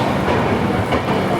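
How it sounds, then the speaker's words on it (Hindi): Gitanjali SF Express rolling on rails after leaving Bilaspur Junction, a loud, steady rumble of wheels and carriage noise with faint clickety-clack, heard up close with no talk. "अपने शेड्यूल हॉल्ट के बाद 1:50 पर हमारी ट्रेन निकली है बिलासपुर जंक्शन से।"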